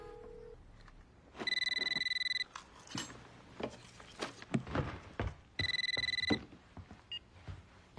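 A telephone rings in two long bursts of bright, trilling electronic tones separated by a pause, with quieter clicks and movement noises between them and no one talking.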